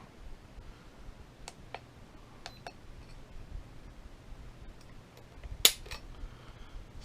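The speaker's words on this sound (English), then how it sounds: "Let's go ahead and check the trigger on the gun, see what the what kind of trigger pulls we're getting on it" Dry-fire trigger pulls on a Smith & Wesson M&P 2.0 compact 9mm pistol, several faint, sharp clicks spaced irregularly in a quiet room, the last one a bit louder.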